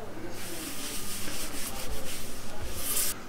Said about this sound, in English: Once I wipe it good with one side, I'm going to go ahead and flip it and wipe it with the other side